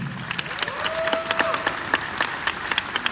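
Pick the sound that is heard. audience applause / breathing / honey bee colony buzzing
audience applause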